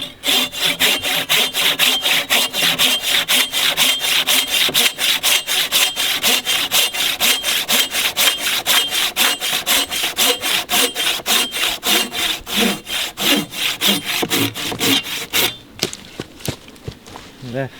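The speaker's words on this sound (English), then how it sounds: "cutting timber with a saw" A hand saw cuts through dry timber in steady, rapid back-and-forth strokes, loud and close, with a rasping rhythm that continues for most of the clip before stopping near the end.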